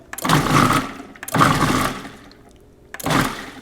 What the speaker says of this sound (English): I'm going to just pulse these eggs and mix them up a little bit.